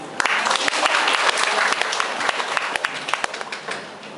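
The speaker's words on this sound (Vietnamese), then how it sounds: "Một lần nữa chúng ta vỗ tay." A Vietnamese church congregation claps together after a prayer at a worship service, producing a loud, dense round of applause with sharp individual claps standing out before it tapers slightly at the end.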